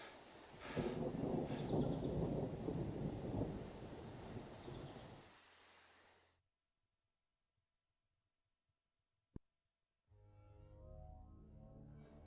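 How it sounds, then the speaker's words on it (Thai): Thunder in the mobile zombie shooter Into the Dead 2 during its Untamed event: a loud, broad rumbling roar that fades over about five seconds into silence. A single sharp click follows, then softer noise returns. No one speaks. "มีฟ้าผ่าด้วยเนาะ"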